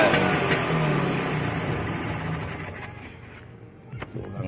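A Vespa scooter engine idles at low revs after carburetor jet tuning, a steady close putter that fades toward the end before a few sharp clicks.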